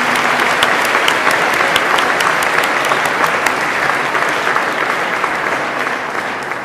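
A crowd at a technical school graduation ceremony applauds its graduating early childhood education students with loud, dense, sustained clapping that fades slightly toward the end.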